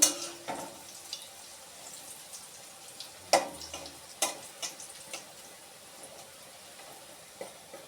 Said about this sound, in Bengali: আর একটু ভাজা হবে